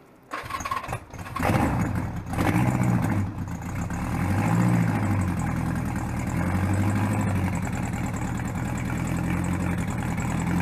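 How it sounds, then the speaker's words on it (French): A flat-four motorcycle engine cranks with a few starter bursts, catches, and settles into a loud, steady, throbbing idle that carries on close by without any talk. "c'est un 4 cylindres à plat, flat, ça fait un bruit de V8, c'est assez impressionnant"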